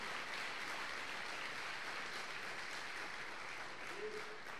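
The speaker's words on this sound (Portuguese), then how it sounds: "Aplauda ao Espírito Santo," Church congregation applauding, a steady, even wash of clapping from a crowd, heard fairly faint and continuous for several seconds.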